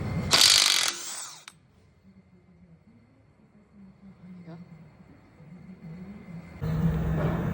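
An impact gun loosens the CV axle and caliper bolts on a 2002–2010 Honda Civic, firing two loud, harsh rattling bursts, one at the start and one at the end, with a quiet stretch of low background hum between them.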